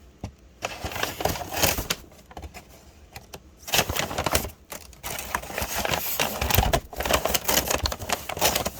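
Scissors snipping and crunching through plastic packaging up close, in irregular bursts of sharp clicks and crinkling with short pauses between cuts.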